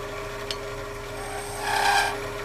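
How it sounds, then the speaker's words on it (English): A tiny groove being cut into a turned wooden bell ornament, a short scraping rasp against the wood that swells briefly toward the end, close and fairly quiet. "I'm going to cut a very tiny groove for the wire to ride in"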